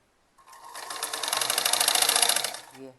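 A sewing machine runs a short back stitch on a kurti, starting abruptly and building into a loud, steady, close whir for a couple of seconds before slowing to a stop.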